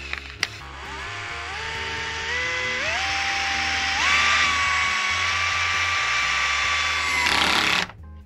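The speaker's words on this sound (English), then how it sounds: "put in the first screw straight away after I've drilled the hole for it" A cordless power drill bores a hole and drives a screw into loft boarding, its motor whining and stepping up in pitch in several stages before stopping abruptly, loud and close.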